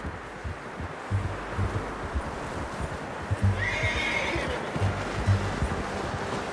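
A horse whinnies once, high and shrill, over steady low rumbling and clopping hooves in a noisy outdoor scene in the video game Red Dead Redemption 2.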